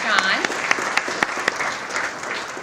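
An audience at a Franklin County Chamber breakfast award applauds, the close, dense clapping steady for a few seconds and then thinning slightly, with sharper individual claps standing out.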